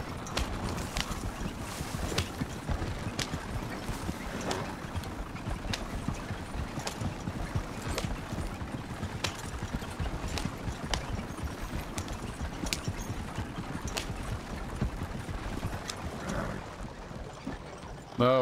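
A horse in Red Dead Redemption 2 gallops at a steady rhythmic clip-clop of hooves, continuous and fairly even, with faint background rumble and no neighing evident.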